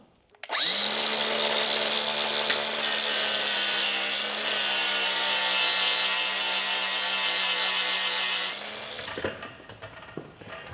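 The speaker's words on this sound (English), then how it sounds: "All right, so we need to get the grinder out. We need to cut this nut down a little bit." An angle grinder cuts down a stuck nut on a cheap auction farm implement, a loud, sustained high-pitched whine that runs for about eight seconds and then winds down.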